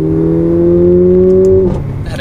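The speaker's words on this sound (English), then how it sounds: "So we'll go ahead and give it another acceleration here." A 2019 Mercedes-Benz CLA 45 AMG's exhaust drones loudly and steadily from inside the cabin under acceleration, a smooth sustained engine hum that cuts off abruptly near the end.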